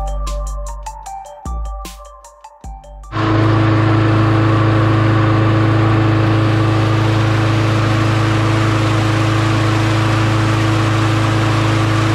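A Briggs & Stratton Quantum auto-choke engine on a lawn mower, after a few stuttering pulls and brief catches it roars to life and settles into a loud, steady, even idle with a strong droning hum, close up.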